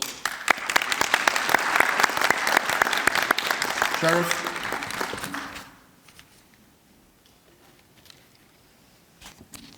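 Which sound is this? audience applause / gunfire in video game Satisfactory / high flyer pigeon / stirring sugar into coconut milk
audience applause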